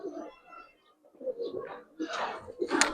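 Pigeons coo in a market stall selling Pakistani high-flyer silver pigeons: soft, close cooing in short bursts, interleaved with people talking nearby.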